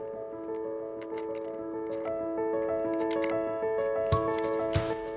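Scissors cut through fabric squares for an upcycled throw quilt, close crisp snipping and crunching strokes over a steady background hum with sustained tones, a couple of sharper cuts near the end.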